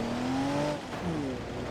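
Car engine in BeamNG.drive with a likely blown head gasket, revving steadily high then dipping and climbing again in a brief, sustained drone with no talk over it.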